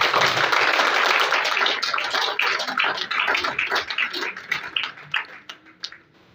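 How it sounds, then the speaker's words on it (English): An audience applauds at the official launch of a breast cancer awareness project, a dense burst of many hands clapping that thins out into scattered individual claps before fading away. "she deserves a hand of applause"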